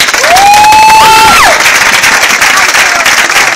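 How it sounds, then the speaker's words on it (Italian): A loud crowd at a salsa dance event applauds and cheers for the dancers, with dense clapping throughout and a shrill whistle or squeal rising and sliding near the start. "Prego l'applauso, grazie."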